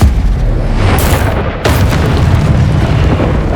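In the game Hogwarts Legacy, the Confringo spell sets off a loud explosion, a sharp boom that cuts off briefly and then gives way to a second blast and a long roaring rumble.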